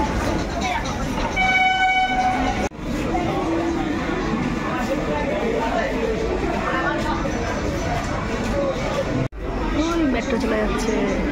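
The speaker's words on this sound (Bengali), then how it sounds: "মেট্রো চলে যাচ্ছে" A metro train rolls past at close range, a loud steady rumble with a horn-like tonal blast early on and brief dips as carriages go by; people talk over it.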